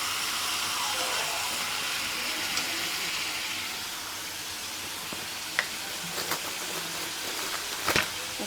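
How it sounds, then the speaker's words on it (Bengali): Steady hiss and sizzle of frying in oil with cinnamon and spices, as meat is cooked for chicken potato balls. The sound is even and moderately loud, with a few small clicks and knocks near the end. "ভেজে নিচ্ছি আগে। আর এখানে আমি দারচিনি দিয়ে দিলাম, ভাজতে ভাজতে সব রকম মশলা দিয়ে দেব।"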